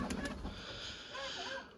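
Pigeons at a loft coo softly in a brief, faint murmur of calls heard close by.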